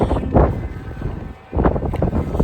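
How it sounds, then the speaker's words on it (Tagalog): Wind gusting across open farmland in Finland, buffeting the microphone in rough surges with a brief lull midway before rising again; no talking. "Mahangin pa rin."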